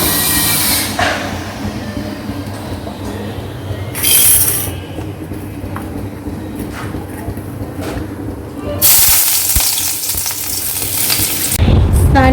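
Fish coated in spices hits hot oil in a home kitchen, giving loud bursts of sizzling spatter that flare up, fade and return over a steady low hum.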